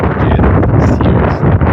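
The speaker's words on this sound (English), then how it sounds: "sorry about the wind, but it's a windy day" Wind buffets the microphone outdoors on a windy day, a loud, rough rumbling roar filling the whole short moment with no voices.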